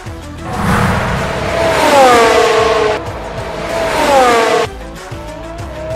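A Formula 1 car braking hard into corner 1 at Monza from about 353 km/h, loud engine whine sweeping downward in pitch through gear changes, heard twice in quick succession with trackside roar.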